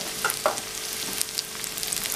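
Carrot, beans and peas for vegetable noodles sizzle steadily in a hot pan, with a few sharp clinks and scrapes of stirring on top.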